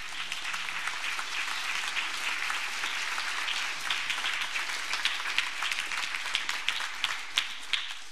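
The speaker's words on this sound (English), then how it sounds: "You want to go ahead and give them a round of applause?" A Christmas Eve church congregation applauds visiting instrumentalists, steady dense clapping filling the sanctuary for the whole stretch with a few sharper individual claps near the end.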